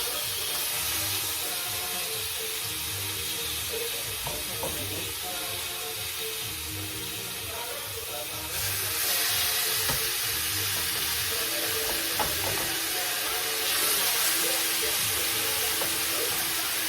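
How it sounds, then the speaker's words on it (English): Salmon fillet searing skin-side down in a hot pan, giving a steady broad sizzle with faint crackles that grows slightly louder midway and continues throughout. "Okay, so I put it skin down. So I'm going to sear it"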